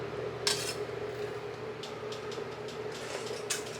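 A utensil stirs a corned beef dish in a pan, with scattered metallic clinks and scrapes against the cookware, close and moderately loud, and no talking.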